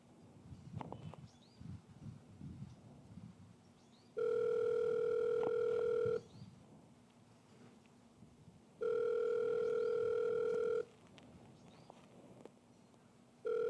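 A telephone ringback tone on an outgoing call, two long steady rings separated by pauses, loud and clear over a faint room murmur, with no talk.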